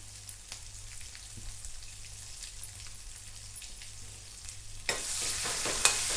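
A light, steady frying crackle gives way near the end to a sudden loud burst of sizzling as chopped curry leaves hit hot oil in a pan.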